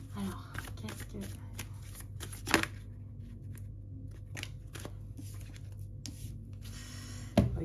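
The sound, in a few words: shuffling cards for a tarot reading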